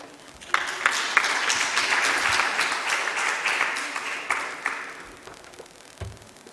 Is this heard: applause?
yes